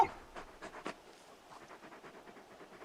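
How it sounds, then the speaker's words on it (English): A large dog in the video game Final Fantasy XVI pants softly in quick, rhythmic breaths that start close and clear, then continue fainter with no speech over them. "You're just a big puppy, aren't you?"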